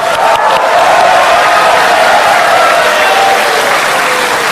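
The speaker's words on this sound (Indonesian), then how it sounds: "Kita tepuk tangan." An audience at a presidential debate breaks into sustained applause, a dense, loud wash of clapping from a large crowd that stays steady throughout.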